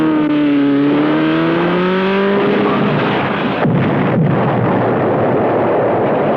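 A car in a cop movie revs with a falling engine whine, then crashes and explodes into a loud, sustained roaring blast that fills the scene without any speech.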